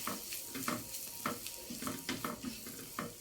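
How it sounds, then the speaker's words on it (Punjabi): Spices with Kashmiri red chilli roast in a pan for a palak and corn sabzi, a soft steady sizzle broken by regular scraping stirs of a spoon, close and fairly quiet. "ਤੇ ਮਸਾਲਿਆਂ ਨੂੰ ਹੁਣ ਜਿਹੜਾ ਆਪਾਂ ਭੁੰਨ ਲੈਣੇ ਆ"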